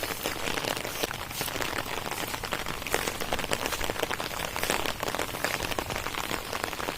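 Rain falls steadily and close, a dense crackling patter that sounds as if it is hitting an umbrella, with no pauses and no voices.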